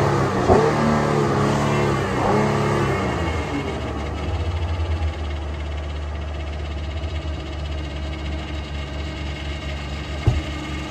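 A car engine catches, then revs in a few rising and falling bursts up close before settling into a rough, steady idle, with a sharp knock near the end.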